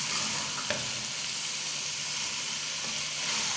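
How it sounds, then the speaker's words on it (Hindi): Black-eyed beans (lobia) fry with ground coriander and other spices in plenty of oil, giving a steady close sizzle with a few small pops and stir scrapes and no talking. "थोड़ा सा हम इसे भून लेंगे"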